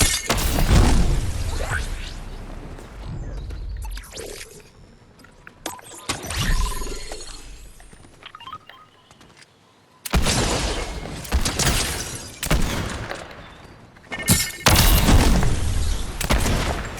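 Explosive repeater rifle shots and blasts in a Fortnite zero build match, sharp booming impacts and whooshes arriving in loud clusters separated by quieter gaps, with no talking.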